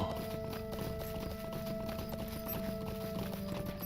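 Horse hooves clip-clopping in the Lord of the Rings Online video game, a steady rapid trotting rhythm over soft game ambience and music, fairly quiet and with no talk.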